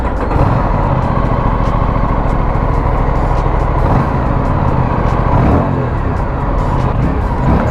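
Aprilia RS 457 motorcycle engine running, a loud, dense steady engine rumble close by with no clear changes in revs.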